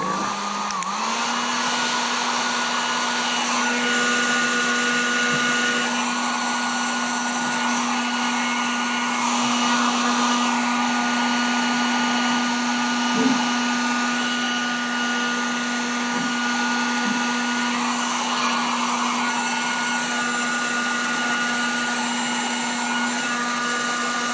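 A heat gun blowing steadily while heating vinyl graphics on a Honda CR125R motorcycle, a loud continuous whirring hiss with a constant tone that holds throughout.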